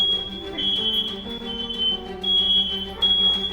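Household smoke alarms set off by smoke from a fire in a fireplace beep with a steady, piercing high tone that repeats with brief gaps, loud and close, over a low indoor hum with no talking.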